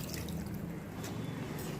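Water is poured from a measuring cup into a pot of chicken gravy, giving a short steady splashing trickle, close and unbroken.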